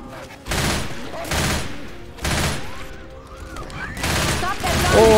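Bursts of automatic gunfire in Left 4 Dead 2, loud and sustained in several volleys across the span, with short gaps and a few voiced exclamations between.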